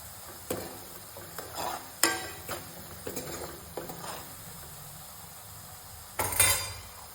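Spoon stirring spicy Surti Mysore bhaji in a pan, a series of scraping, clinking strokes against the metal with a soft sizzle underneath, close and moderately loud with brief pauses, then a final louder stir.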